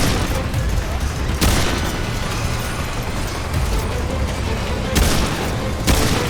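Gunfire in the video game Remnant II pops and booms amid constant noisy action, with a few sharp loud shots standing out over a dense, rumbling background.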